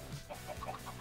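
Minecraft chickens cluck in soft, short, irregular notes over a steady background hum in a farmyard coop scene from the video game.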